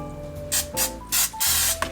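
Non-stick vegetable oil sprays onto raw chicken in a kitchen, four or five short, loud hissing bursts from an aerosol can in quick succession.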